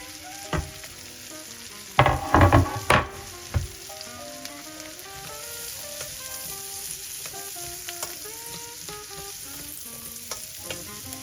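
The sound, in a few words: onions sautéing in a pan over medium-low heat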